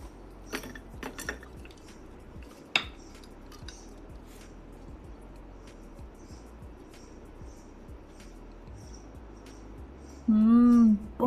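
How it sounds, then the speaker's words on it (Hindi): Grilled mutton chops are dished out, with sparse clinks and taps of utensils against plates over quiet room tone and a short rising tonal hum near the end. "चलें इसे डिश आउट करते हैं।"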